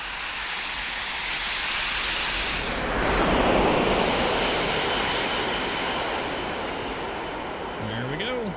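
A Boeing 727's jet engines drone in flight in the X-Plane 11 simulator, a steady broadband roar that swells and shifts pitch as the airliner sweeps past on a flyby, then settles back to a constant rush.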